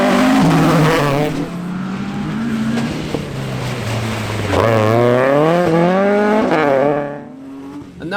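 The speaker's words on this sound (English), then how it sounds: "Third place sees the rear-wheel drive 205 of North Antrim native Jay Nevin" A rear-wheel-drive Peugeot 205 rally car at a winter rally stage near Enniskillen roars past close by. The engine is loud and hard-revving, climbing and dropping through gear changes before fading away.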